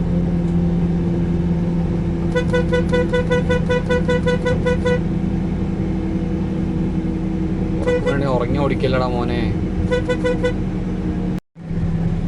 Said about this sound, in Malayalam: ഞാൻ കുറച്ച് നേരമായി പിന്നാലെ കിടന്ന് ഹോൺ അടിച്ചുകൊണ്ടിരിക്കണം